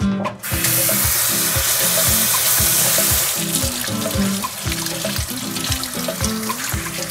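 Water runs steadily from a tap into a sink in a children's pediatric treatment area, a continuous splashing hiss that stays loud and close throughout, with faint knocking tones underneath.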